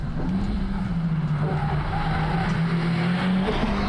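Honda Civic Type R cars, including a 2018 model, slide on a race track on slippery new tires, a sustained engine drone mixed with tire squeal and skidding.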